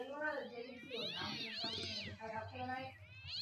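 A person imitates cat meows, a run of drawn-out, wavering vocal mews that rise and fall with some whiny harmonics, loud and close. It happens amid casual chatter among friends playing a game together.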